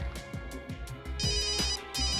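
A telephone rings in repeated short electronic bursts, clear and fairly close, with no one speaking.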